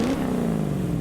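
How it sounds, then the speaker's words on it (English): A big V8 car engine revs in the racing game Gran Turismo Sport, played in VR: a loud, throaty roar close up whose pitch sags slightly as it drones on, with no talk. "Oh, listen to that engine go."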